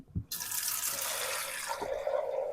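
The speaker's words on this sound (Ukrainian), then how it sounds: "набираєш нову воду" Tap water runs steadily into a container being filled for coffee, a near, continuous splashing rush that starts after a brief knock and deepens in pitch as the vessel fills, with no talking.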